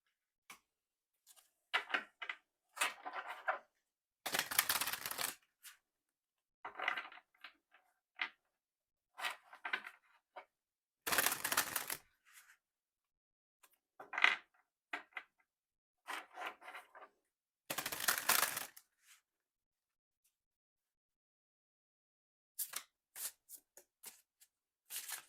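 Oracle cards being shuffled and drawn by hand: a run of soft, papery riffles and flicks in short bursts separated by quiet pauses, close and gentle, with no talking.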